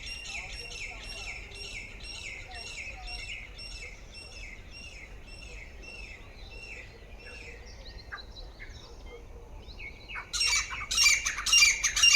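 Birds call repeatedly in rapid squawking chirps by a canal, a steady rhythmic chorus, with louder, busier calls bursting in toward the end.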